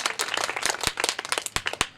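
An audience at a Louis Braille birth anniversary ceremony claps steadily, a dense patter of many hands close by with a few sharper individual claps standing out.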